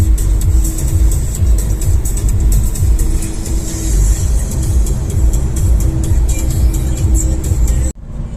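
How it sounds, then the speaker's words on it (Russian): A car cruises through a seven-kilometre road tunnel, giving a steady, loud roar of engine and tyre noise that echoes off the walls, with a faint whir on top and an abrupt cut at the end. "мы едем по туннелю, который протяженностью проходит 7000 метров"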